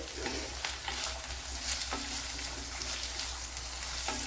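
Onion, garlic and ginger sautéing together in a pan for a vegetable curry, giving a continuous loud sizzle with crackling pops and occasional stirring scrapes, heard alone without talk.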